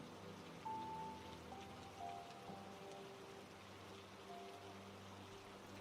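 Gentle rain falls steadily in a soft, faint patter, with quiet tonal hums running beneath it.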